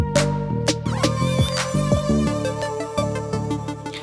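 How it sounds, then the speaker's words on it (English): Music runs through the iZotope Vinyl plugin's lo-fi setting, which emulates an old sampler, giving a crunchy, degraded tone with a steady beat and melodic notes played alone without any talking. "Now next to that we have lo-fi"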